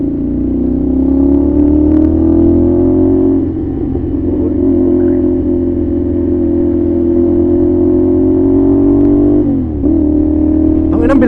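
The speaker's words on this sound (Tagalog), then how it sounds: "Wala siyang laman eh, tapos lakas ng makina." A loud vehicle engine drones steadily and close for the whole stretch, its pitch shifting slightly as it works harder, with people chatting over the constant rumble.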